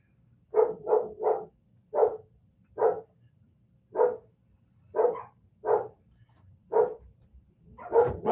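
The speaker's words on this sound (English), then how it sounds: "Must have some neighbors walking their dogs because mine are going nuts right now." Dogs bark at walkers passing outside, about a dozen loud, close woofs in short bursts and spaced singles, with a low hum beneath and no talking.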